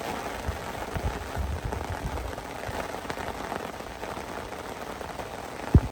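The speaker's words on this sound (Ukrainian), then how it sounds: "Дощ іде" Rain patters steadily on the surface at a riverside feeder-fishing spot on the Desna, a soft continuous hiss of drops with one sharp thump near the end and no voices.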